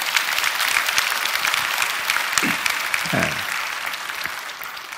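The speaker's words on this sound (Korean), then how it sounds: "박수 한 번 보내드리세요" A church congregation gives a warm round of applause for a 100-year-old deaconess, a dense, continuous clapping that tapers slightly toward the end, with a short spoken word from a man nearby.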